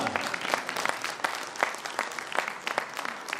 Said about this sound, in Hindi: हाँ, ताली बजा रहे तो जोरदार बजाइए ना।